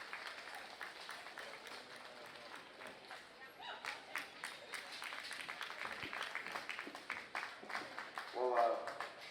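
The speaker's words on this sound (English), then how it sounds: "So if you give him a round of applause for coming today." An audience at a junior gilt breeding show applauds the arriving judge, a fairly quiet, uneven clatter of claps that builds and thickens toward the end, with some murmured voices mixed in.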